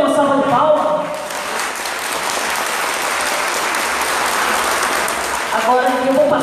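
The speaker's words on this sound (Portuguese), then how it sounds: "Então, vamos receber com uma salva de palmas?" An audience at a ceremony for a housing construction project gives a round of applause welcoming officials, broad steady clapping from a crowd framed by a speaker's voice at the start and end.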